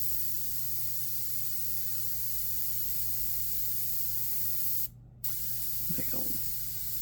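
An airbrush sprays paint over a demon skull in a steady, close hiss. The hiss cuts out briefly once, then resumes.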